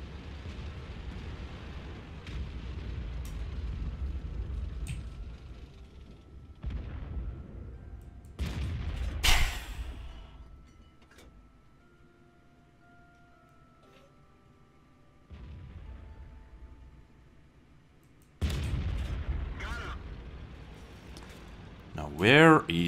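Artillery fire in World of Tanks, several heavy booming blasts and explosions separated by quieter stretches, with someone talking over parts of the gameplay.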